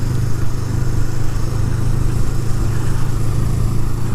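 Motorcycle engine droning steadily while riding along Mt Lemmon road, a loud, continuous low rumble with wind noise throughout and no speech.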